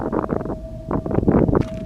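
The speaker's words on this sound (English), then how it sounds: "I know it's windy, but it isn't that windy." Wind gusts and buffets the microphone in rough, rumbling bursts, with a faint steady hum running underneath.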